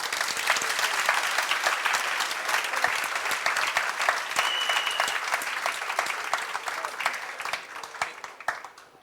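Loud, sustained applause from an audience at a classroom-style event, dense clapping holding steady for the full stretch before tapering slightly at the end, with no talking over it.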